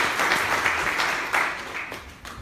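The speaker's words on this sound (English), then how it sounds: "Give them a round of applause." Applause from a congregation at an A.M.E. church gathering, a moderate burst of clapping that gradually thins out over a couple of seconds.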